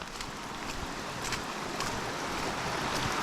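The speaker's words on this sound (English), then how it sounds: "That's a lot of water flowing right now" A rain-swollen stream surges under a small bridge, a dense, even rushing of water that holds steady throughout without any voices.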